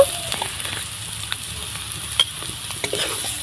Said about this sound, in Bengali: এবার আমি সব কিছু ভালো করে আলুগুলো কষিয়ে নেব মশলার সঙ্গে